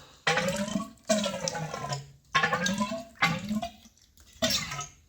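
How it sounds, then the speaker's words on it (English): Oil drains from an '84 XR250 motorcycle fork as it is pumped, coming out in five gushing pours that splash and gurgle into a container, close up with brief pauses between pumps. "So drain the oil out, pump a few times."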